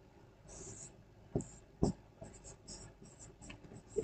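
Marker or chalk scratches on a board during a chemistry lesson: a few short, faint strokes with soft taps and pauses between them, quiet and close, with no speech over it.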